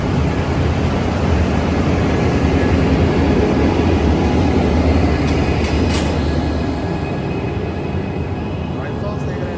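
Amtrak Capital Corridor passenger train at Oakland's Jack London Square station, a loud, steady rumble and roar of the train passing close by throughout, with a faint high whine on top.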